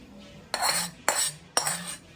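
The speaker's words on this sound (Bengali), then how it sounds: "এবার একটা সার্ভিং ডিশে আমি এটা ঢেলে নেব।" Spicy vermicelli being scraped and transferred into a serving dish, three distinct metallic scraping strokes of a utensil against the pan, each about half a second, close and fairly loud.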